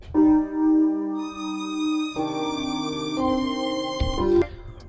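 A sustained solo string instrument plays a few slow, held notes in sequence, clean and up close with no other sounds.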